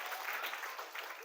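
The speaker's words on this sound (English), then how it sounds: "Give him a big round of applause." Students in a classroom give a short burst of applause, a brisk, faint patter of many hands clapping at once.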